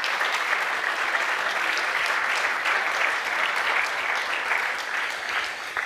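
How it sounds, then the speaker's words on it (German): Steady audience applause fills a lecture hall in the Thon-Dittmar-Palais after a physics talk, dense and even throughout with no voices over it. "Ihr Applaus, Herr Richter."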